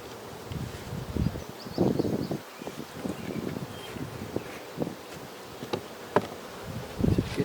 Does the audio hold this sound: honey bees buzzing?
yes